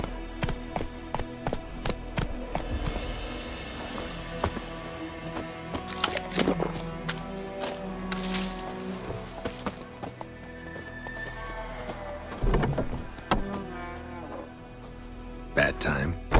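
Roach the horse in The Witcher 3 game, hooves clip-clopping with a neigh amid busy game sounds, music and character voices.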